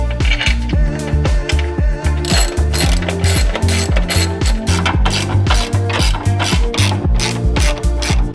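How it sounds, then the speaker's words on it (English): A hand ratchet works loose the bolts on a crashed Lamborghini Gallardo's control arm, clicking in rapid, loud, regular strokes close to the mic for over eight seconds, with no voices. "I'm gonna have to loosen these bolts"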